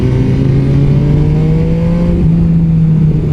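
An MV Agusta Superveloce 800 motorcycle engine drones loud and close, its pitch holding a steady high note and gradually creeping upward as the bike pulls under acceleration, with no voices over it.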